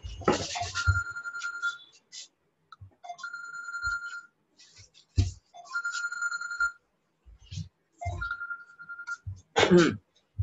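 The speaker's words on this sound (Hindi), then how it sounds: "फोन किधर बज रहा है?" A phone rings in repeated bursts during a class on atomic structure, its electronic tone chiming in several spaced pulses with gaps of quiet between, plus a brief cough or throat noise near the end.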